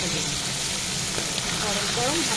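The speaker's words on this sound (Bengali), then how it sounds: "আমুদি মাছটা তো ভাজা হয়ে গেছে" Amudi fish fries in a pan with a dense, steady hiss of hot oil, close and constant, while a voice speaks faintly underneath.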